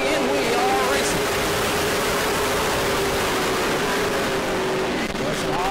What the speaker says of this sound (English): They will see the green flag, and we are racing